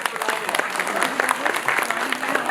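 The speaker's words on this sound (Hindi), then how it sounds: "तो इनके लिए जोरदार तालियां प्लीज।" An audience claps loudly at a stage event, with crisp, uneven individual claps and some voices in the crowd throughout.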